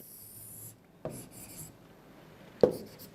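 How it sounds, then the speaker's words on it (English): A pencil scratches a line across paper during a technical drawing exercise, a short rasping stroke followed by another, with brief sharp contacts; close and clear, no talking. "Draw an XY line."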